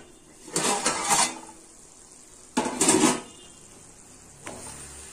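Metal lid lifted from a pot of sundakkai puli kuzhambu, a tamarind curry with green turkey berries, then a spoon stirring against the pot; two loud clattering bursts and a fainter final tap, close and without talk.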